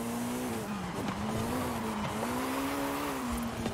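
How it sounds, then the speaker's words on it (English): Tires squeal as a race car drifts through a corner in Forza Horizon 5, over a continuous loud engine whine that sags and recovers through the slide, no speech. "Oh, good drift around the corner."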